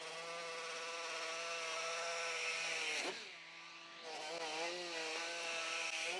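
A Hyper Tough 12 volt die grinder runs with a loud, steady, high-pitched whine that sags in pitch and level for about a second midway, as if loaded against work, then recovers.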